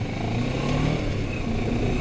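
A Kawasaki Z900 motorcycle on the road, its engine roaring loud and close in a dense, steady rumble, with no talking over it.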